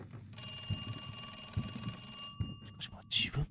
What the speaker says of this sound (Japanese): じゃあチリチリチリチリってお電話いただきましょう。